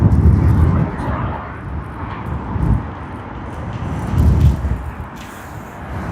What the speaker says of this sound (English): It's an Airbus A330-200, passenger to freighter version.